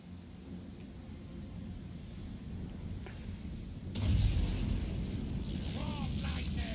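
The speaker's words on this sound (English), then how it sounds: "Warp Lightning!" Warp Lightning spell from Total War: Warhammer, cast by Ikit-Claw's Warlock Engineer, crashes in as a loud broadband thunderous burst midway, following a low battle rumble and rolling on with crackling noise.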